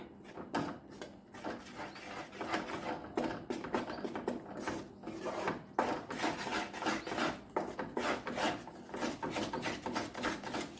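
Buttermilk being mixed into a dhokli batter in a bowl, a continuous busy scraping and swishing of a spoon or whisk that holds steady and fairly close throughout, with no talk.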